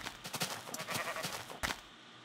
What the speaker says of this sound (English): Some sheep.